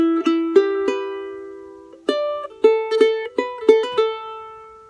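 Charango playing a melody adapted from Andean panpipes, with bright plucked notes and hammer-on slurs in short phrases, ringing alone and close.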